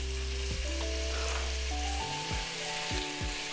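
Stew meat sears in a hot Dutch oven with a steady, close sizzle that holds throughout, a few low clunks and shifts sounding as pieces settle, and no voices present.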